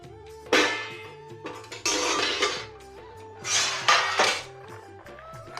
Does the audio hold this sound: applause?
no